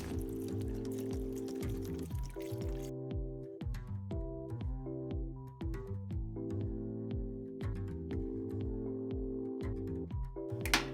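Chicken broth streams and glugs into a pot in several pours, fairly quiet, with background music playing throughout.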